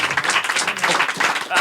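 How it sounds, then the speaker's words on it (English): A standing audience at a podcast's million-download special gives a round of applause for a guest: a brief burst of lively clapping mixed with voices. "Give one more round of applause for IRKO."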